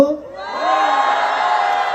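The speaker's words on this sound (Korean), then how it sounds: "자 지금 이곳에 살고 계신 분들 함성 한번 들어볼까요?" A trot concert crowd at an outdoor festival in Cheongju cheers on cue from the stage; after a brief spoken lead-in, a loud, sustained roar of shouts and whoops rises and holds.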